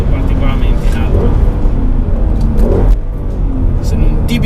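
Ford Mustang 5.0 V8 engine running close by, a steady loud rumble that swells briefly as it revs, holding a thick low drone throughout.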